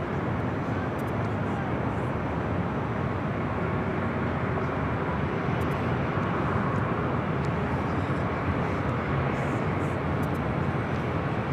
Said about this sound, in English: This is Alaska SkyWest 3306 coming in from Santa Rosa on the E175.